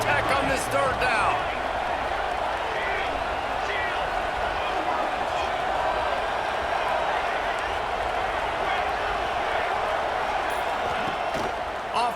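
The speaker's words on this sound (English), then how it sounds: "The crowd electric trying to help Tech on this 3rd down." A stadium crowd roars steadily for Texas Tech during a third-down play at an LFL football game against Miami, a dense sustained cheer with some higher shouts and a few sharp bangs near the start.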